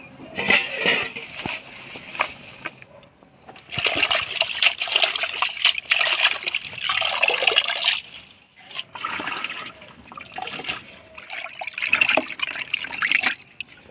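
Leafy greens washed by hand in water, bursts of trickling, splashing and sloshing that come and go in waves with short pauses between, close and fairly loud, with no speech.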